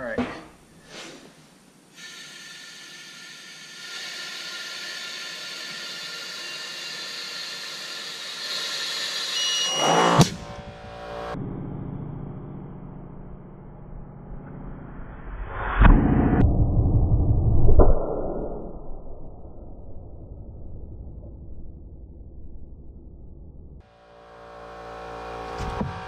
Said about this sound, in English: Compressor will probably kick right the fuck on.